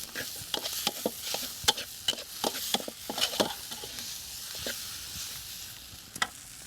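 Spatula strokes scrape and stir egg through frying food in an oiled pan in a Thai kitchen, landing as irregular sharp clatters over a steady crackling sizzle, close and fairly loud.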